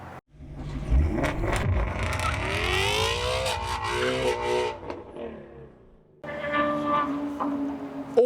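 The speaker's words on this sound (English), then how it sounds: "Miss Luda can handle a loud truck." A 2025 Roush Ford F-150 pickup revs hard, its engine note climbing and sweeping upward for several seconds, dropping briefly, then surging again with a loud, throaty roar.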